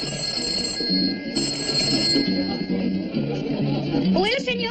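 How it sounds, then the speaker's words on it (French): An old-fashioned telephone bell rings indoors in two or three bursts separated by short pauses, mixed with background music and faint voices. "Seigneur, c'est le téléphone pour vous."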